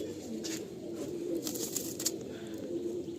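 Pigeons cooing in a loft, soft rolling coos that repeat steadily at close range, with a few brief chirps and flutters over them and no talk.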